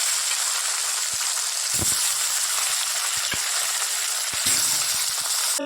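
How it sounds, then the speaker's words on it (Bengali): Fish frying in a pan in a home kitchen gives a loud, steady, close sizzle and hiss. Occasional sharp pops and clicks break through it, and no one speaks. "চলো মাছগুলো দিয়ে দিই।"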